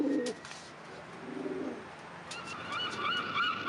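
City pigeons cooing in soft low repeated calls, with brighter bird chirps joining later against a steady urban background.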